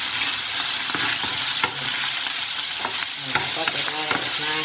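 Nham, Thai fermented pork, stir-fried with egg, sweet peppers and sliced chilies: a loud steady sizzle with repeated scraping and clinking of a spatula against the pan, close up and without talk.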